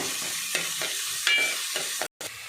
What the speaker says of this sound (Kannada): ಒಂದು ದೊಡ್ಡದಾಗಿರೋಂಥ ಒಂದು ಈರುಳ್ಳಿನ ಸಣ್ಣಕ್ಕೆ ಹೆಚ್ಚಿ ಹಾಕ್ತಾ ಇದ್ದೀನಿ. ಇದನ್ನು ಸ್ವಲ್ಪ ಕೆಂಪಗಾಗೋವರೆಗೂ ಫ್ರೈ ಮಾಡ್ಕೋಬೇಕು